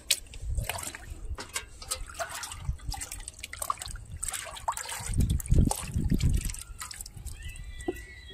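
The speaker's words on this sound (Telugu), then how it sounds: "ఇప్పుడు ఈ లిక్విడ్ ఇచ్చుకుందాం" Liquid fertilizer trickles and splashes onto a dragon fruit plant close by in uneven bursts, with a heavier, gurgling pour near the middle before tapering to drips.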